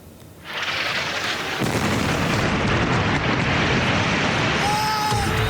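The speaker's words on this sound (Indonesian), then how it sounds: "Sebuah rekaman video menunjukkan ledakan akibat serangan udara Israel menghantam sejumlah gedung yang berada di pinggiran selatan Beirut, Lebanon." Airstrike explosions hitting buildings on the southern outskirts of Beirut, Lebanon, making one loud, sustained roaring blast with a continuous heavy rumble that fills the whole stretch and stays strong throughout.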